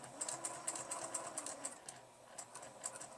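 A sewing machine stitches fabric scraps into a bookmark, giving a quiet, rapid mechanical rattle with light rhythmic ticks that pause briefly, then resume.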